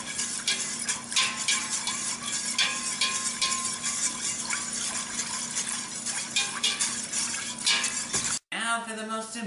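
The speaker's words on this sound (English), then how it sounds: "And then you whisk it even more." Whisking cheese sauce for mac and cheese in a pot, a steady scraping, stirring texture with faint clinks of the whisk, continuous and close throughout, cut off briefly near the end.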